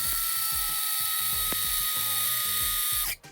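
An electric coffee grinder grinds coffee beans for a Keurig, making a loud, high, whining buzz with a rattling pulse. It runs steadily for about three seconds, then cuts off abruptly and winds down, with no talking.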